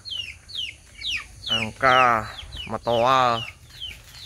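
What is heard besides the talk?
chickens clucking, a hen laying eggs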